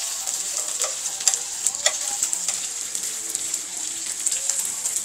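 Thin slices of meat fry in a pan, giving a constant loud hiss of sizzling with scattered pops and crackles throughout, and no voices.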